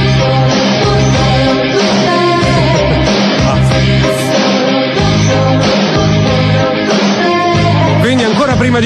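Italian pop song performed as a full band arrangement with vocals playing loud and continuous throughout.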